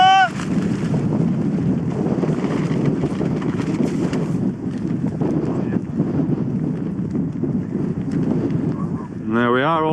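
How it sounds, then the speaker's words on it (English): Strong wind roars across a mountain summit campsite in the Lake District near Helvellyn, a loud, constant rumbling buffet on the microphone throughout, with a short whistling tone at the very end. "Damn son, you windy, huh?"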